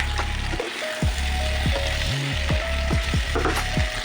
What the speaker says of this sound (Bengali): 1 চামচ হলুদ গুঁড়ো, 1 চামচ লঙ্কার গুঁড়ো আর 1 চামচ লবণ দিয়ে ভালো করে এটাকে ভাজতে থাকবো, কুঁদরি আর আলুটাকে